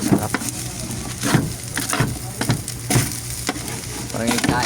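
Rice frying in a hot pan for Filipino sinangag, sizzling steadily as a spatula scrapes and stirs in regular strokes every second or so, close and fairly loud.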